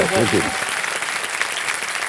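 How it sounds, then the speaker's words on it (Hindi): A studio audience on the Kaun Banega Crorepati quiz show set breaks into loud, dense applause as a host's voice briefly trails off at the start, then the clapping carries on alone. "एक बार फिर से जोरदार तालियां बजाएं।"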